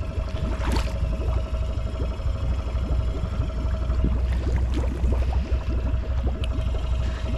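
A 2018 Honda Foreman ATV floating in a pond, its engine idling steadily with a low, even putter and some water sloshing, heard at close range.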